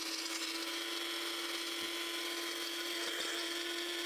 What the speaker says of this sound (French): Je vais les écraser dans mon mixeur.